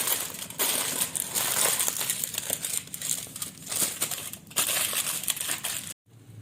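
Aluminium foil crinkles and crushes continuously as it is rolled around whole eggplants for baba ganoush, a dense, close crackling that runs steadily for about six seconds before cutting off abruptly.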